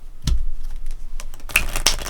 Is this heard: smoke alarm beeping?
no